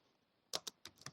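Keys tapped on a computer keyboard during a Python Pandas coding session: four quick, crisp clicks arrive in an uneven burst after a brief quiet lead-in, close and fairly faint, with no speech.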